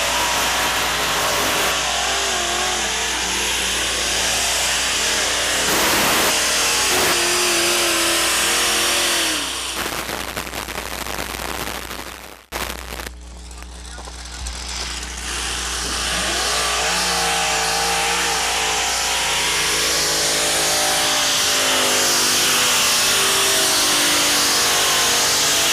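A modified tractor roars through a 1997 pull run at Chapel Hill, its loud engine sustained and revving with brief dips and surges, heard close and alone without talk.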